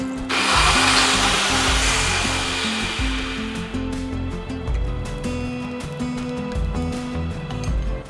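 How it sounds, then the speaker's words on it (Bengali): A blender whirs loudly as it grinds onion, cashew, green chili, garlic, ginger and coriander with water into a smooth paste, running steadily with a pulsing, churning low rumble and no talk. "এরপরে জল দিয়ে এটাকে একদম মোলায়েম পেস্ট বানিয়ে নেব"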